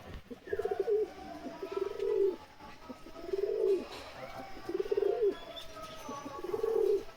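A pair of Madras pigeons coo in soft, rounded phrases, about five evenly spaced rolling coos, close and fairly quiet over a low background.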